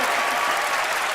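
A studio audience at a magic show applauds a performer, a dense, loud wash of clapping filling the whole brief moment without a break.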